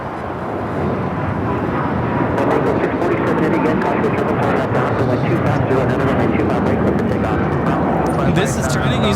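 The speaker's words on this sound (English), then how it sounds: "This is China Eastern Airlines 586 taking off to Shanghai on the 777 300 ER." A China Eastern Boeing 777-300ER taking off fills the air with a loud, sustained jet roar, broad and rumbling and close, holding steady throughout with a crackling edge from the engines.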